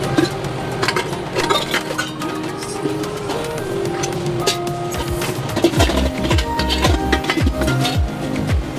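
Dishes and pots being stacked in a home kitchen during household chores: a steady run of clinks, clatters and metallic knocks, with a few heavier pot bumps near the end.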